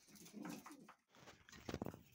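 Young racing pigeons in a pigeon loft coo softly and intermittently, with a brief pause before a fuller burst of cooing and wing or body rustles near the end, quiet and close, with no talking.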